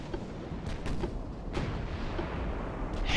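In Ultimate Admiral: Dreadnoughts, a spread of torpedoes hits a battleship in a 1905 pre-dreadnought naval battle. Several muffled booms land at irregular intervals over a steady rumble of battle noise, with no talking.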